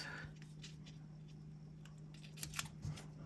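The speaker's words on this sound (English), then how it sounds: "I am going to cut it and not rip it" Scissors cut paper for a Halloween spread on Happy Planner dot grid paper, giving a few soft, close snips over a faint hum.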